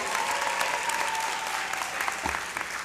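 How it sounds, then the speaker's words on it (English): A law school hooding ceremony audience applauding loudly for themselves, sustained dense clapping with a few cheers, a faint held tone running underneath. "give a round of applause for yourself and make it nice and loud"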